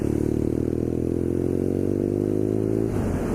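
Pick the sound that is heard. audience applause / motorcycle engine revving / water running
motorcycle engine revving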